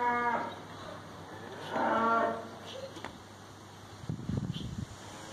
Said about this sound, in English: There's them cows, seriously.